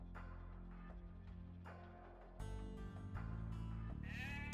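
Sheep bleat in an Age of Empires match, several short game-sound calls in a row, fairly quiet at first and then louder over a low background hum.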